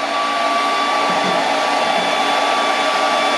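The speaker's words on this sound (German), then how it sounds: "muss ich den zweiten Föhn hinzunehmen." A hair dryer runs with a steady, loud, unbroken whir, used as an electrical load on a 200 Ah Power Queen LiFePO4 battery, with no voices over it.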